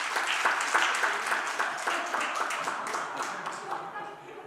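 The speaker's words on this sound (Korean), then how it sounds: "우리 박수해 주시기 바랍니다." A church congregation at a Friday prayer meeting bursts into steady, crowded applause that holds for several seconds and then gradually softens.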